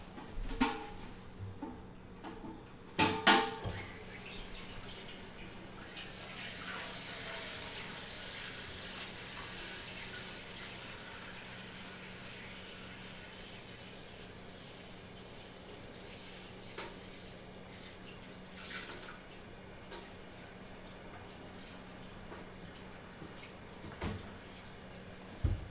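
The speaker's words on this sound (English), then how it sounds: "Water on the pan." Tap water runs steadily into a pasta pan, a continuous gushing flow with a few louder clatters and splashes near the start, close and alone without talk.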